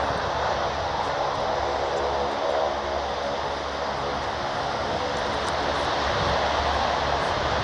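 An airplane at Birmingham Airport revs its engines, a loud steady roar that holds near and constant throughout without any talking.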